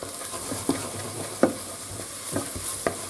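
Flour stirred into golden fried onion and garlic in a pan, a soft frying sizzle broken by regular scraping strokes of a spoon, roughly one every half second, with no voices.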